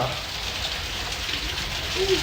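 Steady rain patters across the whole stretch, a dense even hiss of drops with a faint low rumble underneath and no voices.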